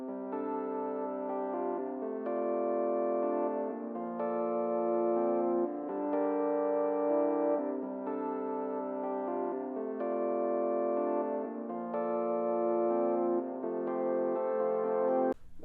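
A Rhodes electric piano plays a repeating chord pattern in a bedroom pop beat, warm sustained chords changing about every two seconds, steady and even for around fifteen seconds with no voices over it.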